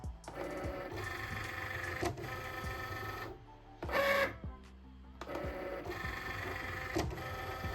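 A Cricut cutting machine's roller carriage slides along its track, giving bursts of whirring motor drive with rattling mechanical clicks, separated by short pauses and a higher whine, close and fairly loud.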